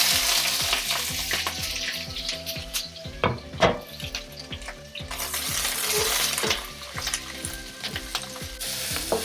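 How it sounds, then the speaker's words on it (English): Vegetables stir-fry in two tablespoons of oil for sweet and sour chicken, giving a strong close sizzle broken by rhythmic spatula scrapes and knocks against the pan throughout. "So I'm just gonna cook the vegetables for about a minute, just until the vegetables soften up"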